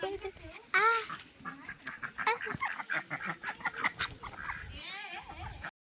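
Ducks quack and honk nearby in repeated bursts, mixed with a person speaking over them.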